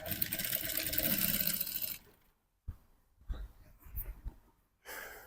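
A sewing machine runs a steady burst of stitching along the waistband of a palazzo pant for about two seconds, then stops, leaving quiet handling noises and short rustles.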